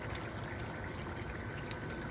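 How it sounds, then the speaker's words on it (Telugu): Water poured into a pot of mutton curry as it simmers into a gravy, a steady close gushing and trickling pour that runs without a break and with no talk. "ఇంకొంచెం పోసుకుందామండి వాటర్"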